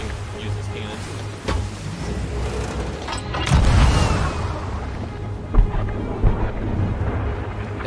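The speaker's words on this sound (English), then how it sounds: "I'm using that shot just so I can use this cannon" Heavy cannon blasts fire from a galleon ship in the pirate video game Sea of Thieves, several deep booms over ocean and wind ambience, with players talking over headset.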